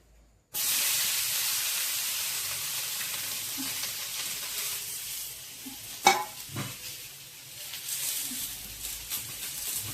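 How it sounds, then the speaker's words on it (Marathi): Thalipeeth jowar flatbread set on an oiled tava bursts into a sudden steady sizzle that hisses on, with a few clinks and spatula scrapes partway through. "आता छानपैकी थालीपीठ आपण भाजून घेणार आहोत."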